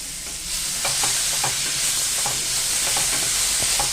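Potatoes with green chillies and tomatoes fry in a pan for a vegetarian spinach curry. The sizzle stays steady and close, with soft stirring scrapes recurring through it and no voices.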